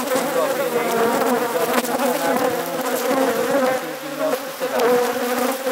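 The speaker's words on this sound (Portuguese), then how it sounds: "Enxame desse aqui já está com mais de 30 mil abelhas." A colony of over 30,000 honey bees hums at an apiary hive during a bloom, a dense, steady, loud buzzing drone filling the whole stretch.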